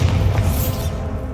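A short, loud, booming impact from the Bombarda explosion spell in Hogwarts Legacy, a dense low crash lasting about a second.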